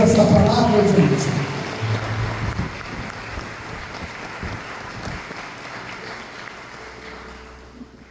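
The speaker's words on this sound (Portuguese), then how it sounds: "Vamos aplaudir Jesus por essa palavra, gente." A church congregation applauds, a dense burst of clapping that is loudest at the start and fades over several seconds, with a voice speaking over it.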